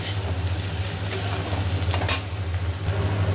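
Food frying in a pan and being stirred, a continuous close sizzle with scraping strokes of a utensil and a low steady hum beneath, no talking.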